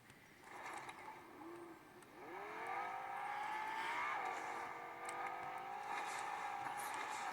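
Car driving with a nitro boost in Fortnite on Nintendo Switch Lite: a faint engine tone that surges upward in pitch as it accelerates, then holds a high whine, with no talking.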